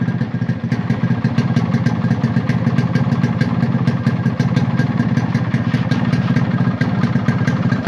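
A Yamaha RX 100 motorcycle engine, started with an ACG self-start system, runs steadily at idle with a rapid, even two-stroke clatter and a low rumble, close by and unbroken, with no talking.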